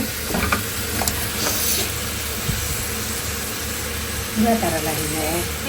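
Chicken stirred in hot oil with kebab masala, turmeric and chili makes a continuous sizzle and hiss, with a few clinks and scrapes of stirring, while a voice talks over it.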